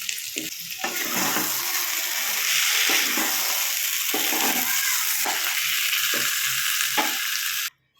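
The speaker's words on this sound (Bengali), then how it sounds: "আমার কিন্তু মাছটা হয়ে গেছে এবার কিন্তু আমি ধনে পাতাটা দিয়ে দেবো উপর দিয়ে" Lote fish frying in a wok gives a loud, continuous sizzle with bursts of stirring and spattering, ending abruptly as the heat cuts off.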